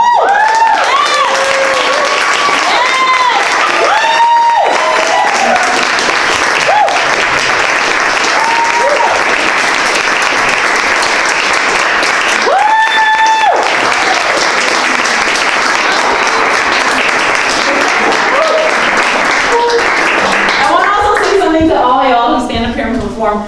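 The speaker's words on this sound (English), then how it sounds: "take that applause" A dense, sustained wave of loud audience applause and clapping fills a women artists' celebration event in Queens, with voices cheering and calling out over it throughout.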